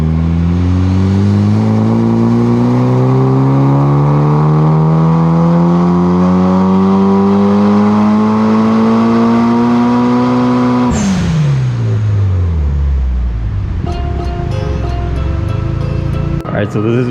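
A mostly stock Mitsubishi Lancer Evolution 9 pulls hard on a dyno, its engine note climbing steadily for about eleven seconds before the throttle snaps shut and the revs fall away. Clicks and rattles follow as the engine settles.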